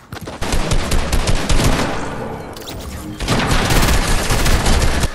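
Rapid automatic assault rifle fire from Fortnite, loud and sustained in two long bursts with a brief easing between them, dense crackling shots filling the clip.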